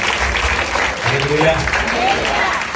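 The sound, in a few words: audience applause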